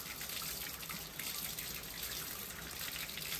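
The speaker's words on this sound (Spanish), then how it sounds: "Entonces aquí vamos limpiando. Esto ya lo tenemos muy sucio. Abrimos la canilla y" Water runs steadily from an opened tap into a sink while orchids are being cleaned, a continuous close hiss and trickle with no pauses.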